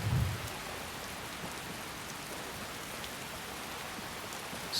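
Rain falls steadily in Skyrim Special Edition, a soft, even hiss of rainfall with a low rumble at the start and no talk.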